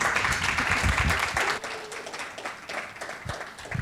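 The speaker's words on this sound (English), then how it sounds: "Please, a round of applause for them." Audience applause for a panel of speakers at an economic forum, a dense wash of clapping that fades and swells briefly midway before continuing at moderate level.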